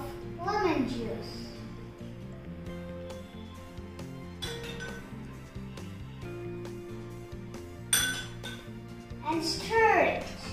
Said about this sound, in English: Stir it until the sugar melts.